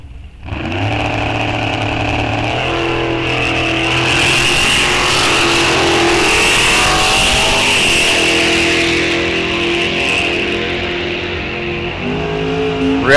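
A dragster races down the drag strip at Rock Falls Raceway during an ET racing series event, its engine roaring loud and sustained for about ten seconds with a rising pitch, then easing off and leaving lighter engine noise.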